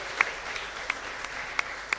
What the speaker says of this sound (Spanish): Fuerte aplauso para todos nosotros.